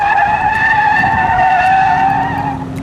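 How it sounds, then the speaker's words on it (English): Dodge Daytona Charger fitted with a skid car rig sliding through a corner at a racing school, a loud sustained tire squeal with steady tonal whine close by, fading slightly at the end. "We are now watching a pair of Daytona Chargers with these little skid things equipped to them"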